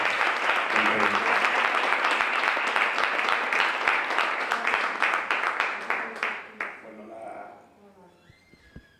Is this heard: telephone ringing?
no